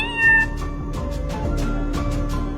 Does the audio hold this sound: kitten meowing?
yes